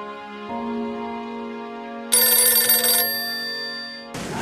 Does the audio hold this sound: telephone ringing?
yes